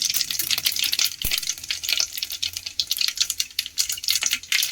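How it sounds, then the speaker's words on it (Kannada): Mustard seeds and cumin sizzle in hot oil while tempering for okra huli, a dense, steady crackle and spatter with one sharp tap partway through, close and loud, no voices. "ಈಗ ಎಣ್ಣೆ ಕಾದಿದೆ ಫ್ರೆಂಡ್. ಈಗ ಸಾಸಿವೆ ಹಾಕೊಳ್ಳೋಣ. ಈಗ ಸ್ವಲ್ಪ ಜೀರಿಗೆ ಹಾಕೊಳ್ಳೋಣ."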